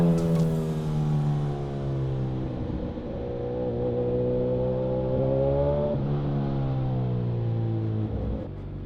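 A Suzuki GSX-S1000 big bike's engine revving up and settling, a smooth rising and falling drone held close by, fairly loud and alone with no talk over it.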